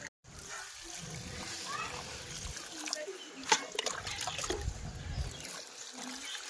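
Water is poured onto potted plants on a rooftop garden in the morning, a steady splashing and trickling close by, with a louder splash partway through and voices talking over it.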